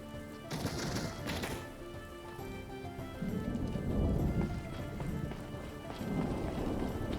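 Horse hooves clip-clop in Skyrim VR, a steady run of soft thuds under an ambient game soundscape with a faint tonal hum, heard at moderate distance.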